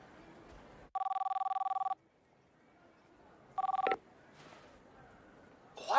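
A telephone in an anime scene rings with an electronic trilling tone, one long ring followed by a shorter one after a pause, each clipped off abruptly, with faint background sounds between.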